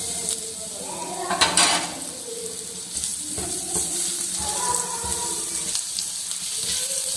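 Garlic sizzles in hot oil with a steady bright hiss, punctuated by a few clinks and stirring sounds, fairly close and without talk, while being browned for a dal tadka.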